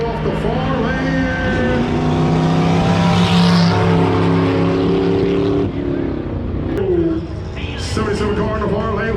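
Drag race cars at Flabob Airport in California roar loudly with a sustained engine drone that shifts pitch partway through, heard under continuous race commentary from an announcer.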